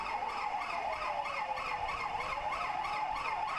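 A fire engine's siren wails in quick repeating up-and-down cycles as the truck squeezes along a narrow street lined with illegally parked cars in a crowded Jeonju shopping district, heard alone and fairly distant.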